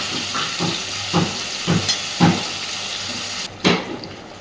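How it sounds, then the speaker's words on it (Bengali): Paneer chaap curry simmers in a pan over a steady hiss, with soft bubbling pops and a few louder spatters at irregular intervals, close by and without speech. "দেখুন সুন্দর করে সব কিছু ফুটতে শুরু করেছে।"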